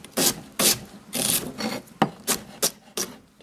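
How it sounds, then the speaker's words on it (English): A knife chops cauliflower on a board in quick, close strokes, sharp scraping cuts arriving in short irregular bursts of about eight, with no voices. "Just give it a quick chop."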